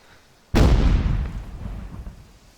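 A single loud explosion in the military video game ArmA 3 hits suddenly with a deep boom and rumbles away over about two seconds.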